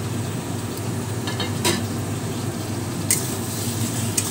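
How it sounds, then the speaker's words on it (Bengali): Fried potatoes tossed into a cooked spice masala in a pan give a soft, steady sizzle, broken by a few sharp clicks and scrapes of stirring. "এবারেতে আমি আলু যে ভেজে রেখেছিলাম সেই আলুগুলো দিয়ে দেবো"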